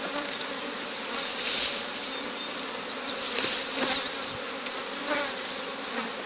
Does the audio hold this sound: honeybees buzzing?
yes